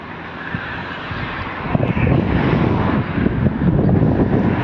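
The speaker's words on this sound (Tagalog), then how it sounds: "Lakas ang hangin." Strong, sand-carrying wind roars and buffets the microphone at a street crossing in Abu Dhabi in a steady, rumbling rush that grows louder partway through, with no voices.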